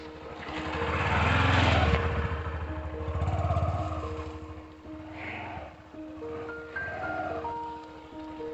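A Honda Shine SP125 motorcycle engine runs steadily, its revs rising and falling as it rides along, fairly close and loud throughout.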